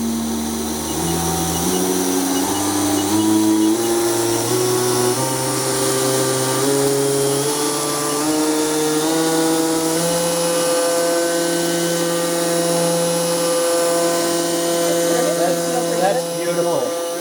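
A lathe spindle machines plastic and throws chips, giving a loud, steady mechanical whine whose tones step and glide as the speed changes, with faint voices in the background.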